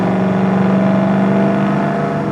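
A 1966 Ford Mustang Fastback with a restored 289 V8, heard from inside the cabin under acceleration: a loud, steady, throaty engine drone with a low hum that rises slightly, close and continuous.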